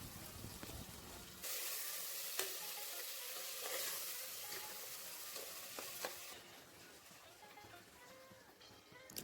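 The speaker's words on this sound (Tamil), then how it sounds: "ஒரு 2 நிமிஷம் லோ ஃப்ளேம்லேயே இது மசால் வணங்கட்டும்." Curd-laced masala for tomato biryani frying on a low flame, a continuous soft sizzle and crackle with occasional clinks of stirring, quiet throughout and without speech.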